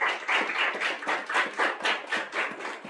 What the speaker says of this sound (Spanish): Con el aplauso de ustedes, damos la bienvenida al doctor Raúl García